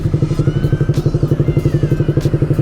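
A motorcycle engine running in city traffic, a loud close steady rhythmic chugging throb that thumps evenly throughout with faint clatter, no speech over it.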